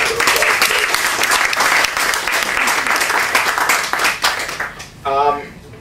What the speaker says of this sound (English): we'd like to give you a little round of applause